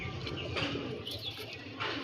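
Pigeon cooing faintly in a low, soft murmur against a steady background hum, with a few brief higher chirps.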